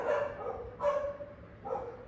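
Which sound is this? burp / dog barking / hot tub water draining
dog barking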